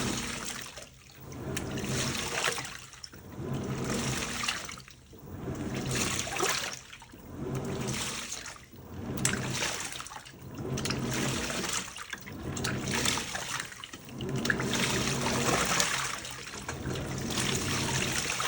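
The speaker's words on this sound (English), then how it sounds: "Alright, we're on the main wash now." Water sloshing and churning in a Panasonic 9.5kg top-load washing machine during the main wash, agitating in rhythmic surges roughly every two seconds, with steady swishing and no talk.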